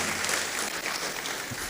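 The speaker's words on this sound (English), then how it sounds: "a round of applause for Stephen Adai, Professor Stephen Adai." Audience applause at a national dialogue event, a steady, dense burst of clapping from a sizable crowd filling the hall, with no talk over it.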